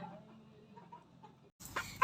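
A chicken clucks in short, soft calls at close range, followed by a louder burst of rustling and clucking near the end; the bird has a fluffy head and pox sores from mosquito bites.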